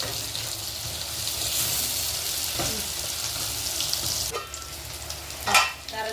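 Brinjal (eggplant) pieces sizzle steadily in hot oil in a pan for fish curry, a dense continuous frying hiss close by, with a brief stir or scrape near the end.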